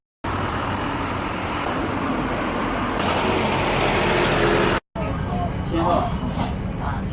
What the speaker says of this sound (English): So we're on the bus in Lijiang.